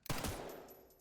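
A single sharp pistol shot from the survival horror game Resident Evil Requiem cracks out near and loud, followed by a quick second report and a decaying tail.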